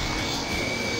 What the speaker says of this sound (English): This is one other helicopter that's my favorite. The Quark SRB.